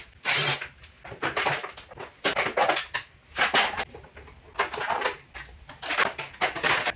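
Screws being removed from the seat of a Mototec 1000w/1600w electric bike with a power drill, in short repeated whirring bursts separated by brief pauses, close and fairly loud.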